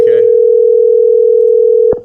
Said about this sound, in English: We're calling. Does anybody hear the ring?